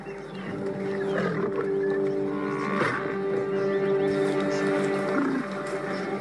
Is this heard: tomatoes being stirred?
no